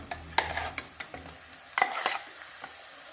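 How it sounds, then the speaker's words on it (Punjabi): Meat masala frying in a pan and stirred with a spoon, giving several sharp scraping strokes over a low, steady sizzle, close and fairly loud with short pauses between strokes. "ਹੁਣ ਆਪਾਂ ਇਹਨੂੰ ਹਿਲਾ ਦਵਾਂਗੇ ਤੇ ਨਾਲ ਹੀ ਆਪਾਂ ਪਾ ਦਵਾਂਗੇ ਟਮਾਟਰ ਤੇ ਮਿਰਚਾਂ"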